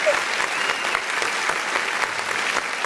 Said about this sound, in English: Thank y'all for the applause.